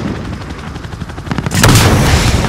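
Air support gunfire in the shooter game Modern Warfare: a rapid, distant-sounding burst of rattling fire gives way to a loud, booming heavy volley of impacts halfway through.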